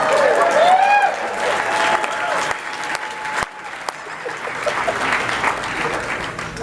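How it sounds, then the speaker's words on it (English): Audience applause at a training event, broad crowd clapping that fades to a softer patter, with a few whoops and voices mixed in. "Give her a round of applause."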